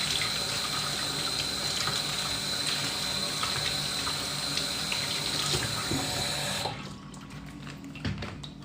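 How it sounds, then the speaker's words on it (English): Hands being washed under a running tap at a sink, a steady close rush of water that cuts off near the end, leaving a quiet room with a few faint knocks. "wash my hands because, like, I feel the CLR is like, it's not oily, but it just feels soapy"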